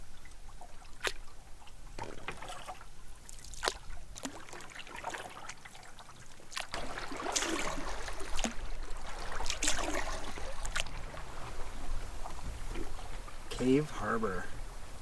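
Paddle strokes dip and trickle through the water as a solo canoe moves across a lake, soft splashes and drips coming close and at uneven intervals, with a voice talking over them.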